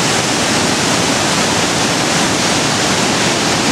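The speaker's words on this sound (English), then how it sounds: "You can hear this all night, you can hardly sleep because of the noise of the river." A rain-swollen river rushes loudly through the town of Aguas Calientes, a dense, unbroken roar of churning water that stays steady and close for the whole stretch with no voices.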